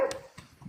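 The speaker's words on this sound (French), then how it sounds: "il y a mon chien qui jappe" A dog barks a few short, sharp times close by, with brief yips between them and no talking.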